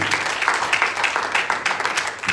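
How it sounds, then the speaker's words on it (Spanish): Congregation clapping together during a church service, steady dense applause filling the whole clip, fairly loud and close. "Démosle palmas fuertes"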